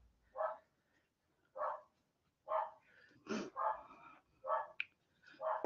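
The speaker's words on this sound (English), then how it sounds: "Oh, the dog's just gone mental." A dog barks excitedly in a rhythmic series of about seven sharp barks at roughly one-second intervals. One higher yelp is mixed in, moderately close in a quiet room.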